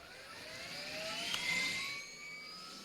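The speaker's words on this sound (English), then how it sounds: "That's the nice thing about heli, is you can fly somewhere and it doesn't take that long to get there." Helicopter flying in an online multiplayer video game, a whirring engine drone with rising pitch that swells in the middle and then eases off, heard alone with no talk.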